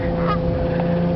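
A Canada goose honks near its nest in Ontario, giving a short, loud nasal call heard close by over steady background noise.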